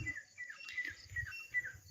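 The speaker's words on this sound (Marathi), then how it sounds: "पाखरं बघा ओरडते आता पाखराचा आवाज" Birds call over farm fields at evening after rain, giving faint, repeated short chirps at a steady rhythm from a distance against quiet background hiss.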